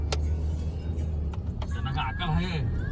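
Cars are driven out at a Narmada river ghat, their engines rumbling low and close beneath voices talking over them, with a short clatter partway through.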